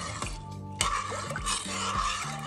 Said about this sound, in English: I come along and I stir it.